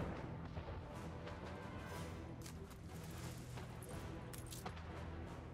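A ship under cannon fire in the strategy game Anno 1800: a dense, faint rumble of repeated booms and crackling shots blends into continuous background battle noise.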